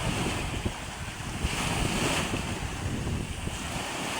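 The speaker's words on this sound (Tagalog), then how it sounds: "Para makita nyo kung gano'ng laki ang alon sa tabi oh." Ocean waves surge and wash beside a small outrigger boat at sea, a loud continuous roar of surf mixed with heavy wind buffeting the microphone and no voices.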